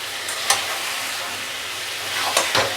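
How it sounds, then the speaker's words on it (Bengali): Steady loud sizzle of spice paste frying in oil as pointed gourd pieces are added, with a couple of sharp clatters and stirring scrapes breaking through the continuous hiss, no voices. "এইবার এর মধ্যে আমি পটলগুলো সব ঢেলে দেবো"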